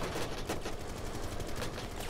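Sustained bursts of rapid gunfire in the tactical shooter Tom Clancy's Rainbow Six Siege, loud and continuous with repeated sharp cracks throughout.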